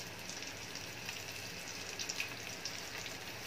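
Battered boxing-style chicken pieces deep-frying in hot oil give a steady, dense sizzle with scattered small pops and crackles, moderately loud and continuous, with no talking.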